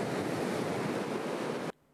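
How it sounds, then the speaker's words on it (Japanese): Ocean surf breaks under an offshore wind, a loud, continuous rushing wash of whitewater close to the microphone that cuts out suddenly near the end. "うわーいい波。"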